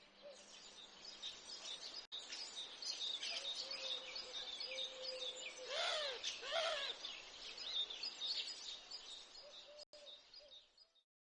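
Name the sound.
birds twittering quietly in the background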